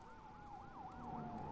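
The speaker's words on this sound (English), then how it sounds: "There's lots of fire sirens going off." Fire sirens in the video game The Last of Us, a wailing siren sweeping steadily up and down at a distance, with a second siren tone joining near the end.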